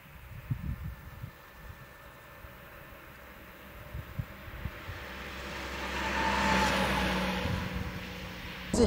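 A 1968 Citroën DS 21 drives past at a distance, a faint rumbling engine and road noise that swells to a soft whoosh, then fades.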